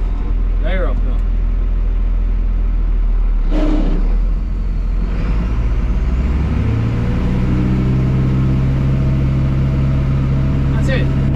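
A tractor-mounted Teagle Tomahawk 8150 double-chop straw blower runs on a 6290 tractor, spreading oaten straw for bedding with a loud, continuous roar and a heavy low drone throughout.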